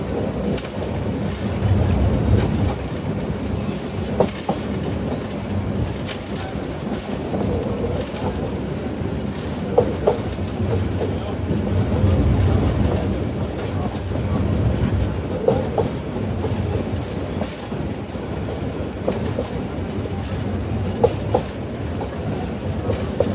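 Egarosindur Provati Express departing Narsingdi station, a continuous low rumble of rolling carriages with scattered clanks and knocks, moderately loud and steady throughout.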